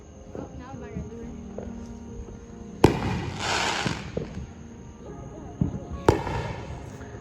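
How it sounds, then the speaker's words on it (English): Fourth of July fireworks and firecrackers going off nearby among trees, two sharp loud bangs several seconds apart with crackling tails, while people talk throughout. "We was not expecting there to be a lot of fireworks here since there's a lot of trees"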